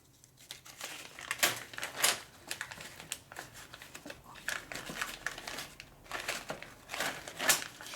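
A bag pulled out and rummaged through in a workshop during a Harley Sportster motor rebuild, irregular close crinkling and rustling bursts of plastic with short pauses.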